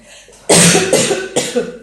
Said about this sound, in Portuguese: Com essa tosse aqui, imagina.